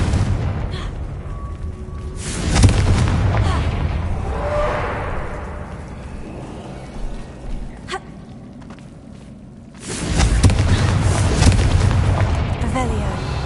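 Confringo fire spell blasts in Hogwarts Legacy, two loud booming explosions a few seconds apart with rumbling debris and swishes between, a game voice briefly under the noise.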